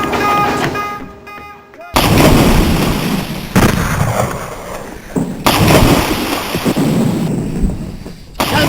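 Naval artillery fires from the battleship Prince of Wales in a dramatized sea battle with HMS Hood and Prince Eugen. Heavy booming blasts and rumbling explosions arrive in loud waves, mixed with shouting voices and dense battle noise.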